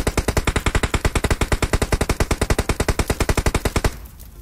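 Automatic gunfire in PUBG Mobile on the Erangel map, one long steady burst of about thirty evenly spaced shots, loud and close, stopping abruptly near the end.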